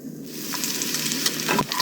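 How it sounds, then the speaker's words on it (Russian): Sausage and bacon sizzle loudly in a hot pan, a continuous crackling hiss with occasional sharper pops. "Жарим на сковородке."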